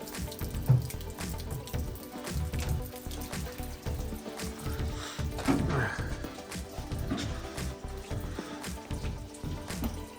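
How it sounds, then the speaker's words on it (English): Water splashes and gurgles steadily as it drains out of the hull of a 1977 Tarva jet boat under restoration, a continuous close trickle and slosh with some faint background noise. "we're adding the same amount of water that's coming out when we do that"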